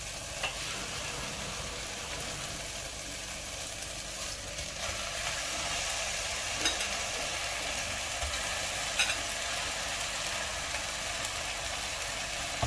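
Mutton pieces hiss and crackle as they fry with softened ginger and garlic in a hot pan, a steady broadband sizzle running throughout, growing slightly louder midway, with occasional scraping stirs and no talk.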